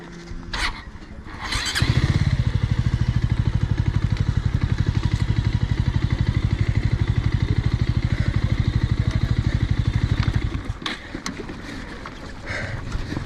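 An off-road motorcycle engine runs steadily with a rough, buzzing drone as it is ridden back downhill on a dirt track near windmills, starting after a few bumps and easing off near the end, with wind noise throughout.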